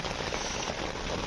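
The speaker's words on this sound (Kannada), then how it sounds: "ಹೊರಗಡೆ ಜೋರು ಮಳೆ" Heavy rain falls outside as a steady, dense, even hiss of drops that holds without a break, with no voices or other sounds.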